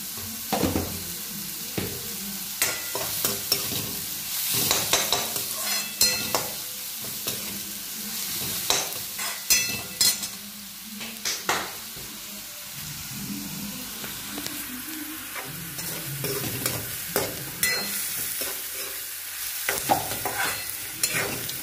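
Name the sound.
salted onion frying in a pan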